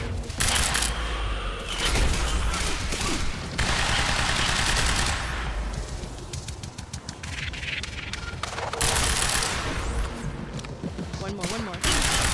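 Rapid gunfire from shooting enemies in the video game Quantum Break, bursts of shots and impacts running throughout, loud and dense, mixed with game effects and someone talking over it.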